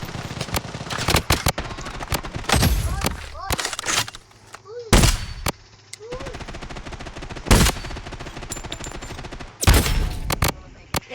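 Rapid automatic gunfire and single shots ring out in the Blood Strike shooter game, loud bursts near and far recurring across the stretch amid game effects, with a voice talking between volleys.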